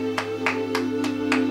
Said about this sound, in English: I'm not gonna stop clapping.